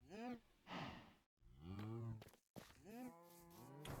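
Several cattle moos from Minecraft cows, distinct drawn-out lowing calls one after another with brief silent gaps, close and clear.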